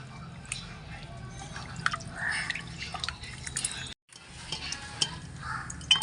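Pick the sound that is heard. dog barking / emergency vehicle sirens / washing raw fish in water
washing raw fish in water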